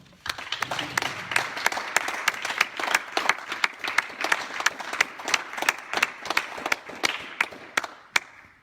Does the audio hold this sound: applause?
yes